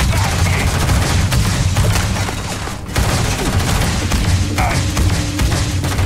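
Gunfire from a weapon in the Starfield video game, loud sustained bursts of shots and thumps with a brief lull near the middle before the firing resumes.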